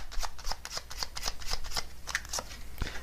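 Tarot cards riffle and slap together in a quick shuffle, a steady run of crisp papery bursts heard up close, with no talking.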